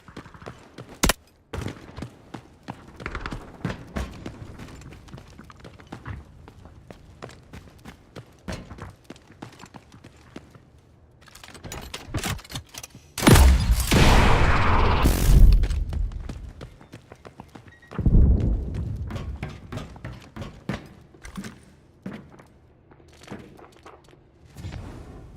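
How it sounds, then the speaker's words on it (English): An incendiary grenade in the video game Delta Force bursts loudly into a roaring, whooshing blaze that swells for a couple of seconds, amid scattered thuds and clatters of gameplay before and after. "Throwing incendiary."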